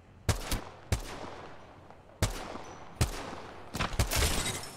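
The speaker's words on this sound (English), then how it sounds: "You're getting shot from the right" Gunfire in the Apex Legends video game: a handful of sharp, separate shots spaced irregularly, then a denser burst of rapid fire at the close, loud and unaccompanied by talk.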